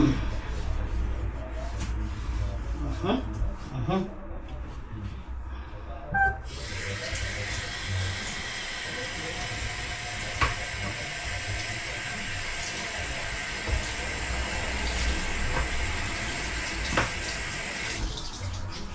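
A kitchen sink tap runs steadily during dishwashing, a broad continuous hiss of flowing water that grows brighter and fuller partway through, with faint clinks and movement around it, close by.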